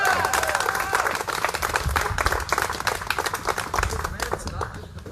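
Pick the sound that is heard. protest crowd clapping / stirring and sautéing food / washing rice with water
protest crowd clapping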